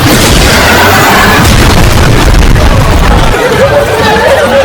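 A movie missile explosion roars as a loud, continuous booming blast with dense rumble, accompanied by crowd chatter and babble mixed into the din.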